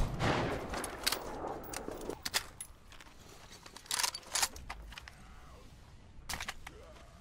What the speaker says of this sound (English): Gun sounds amazing.